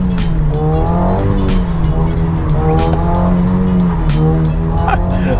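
A rear-wheel drive Genesis Coupe skids on a soaked road in pouring rain with traction control off, tires squealing loudly over a steady engine roar, with the sound close and continuous throughout.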